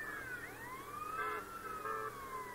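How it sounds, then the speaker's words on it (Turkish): A police siren on a motorbike in GTA San Andreas wails in rising and falling sweeps, several overlapping tones, steady and fairly close over low engine hum. "Sireni açarım ben de."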